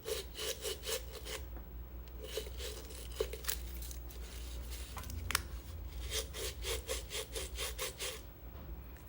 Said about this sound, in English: You don't have to really scrub that hard.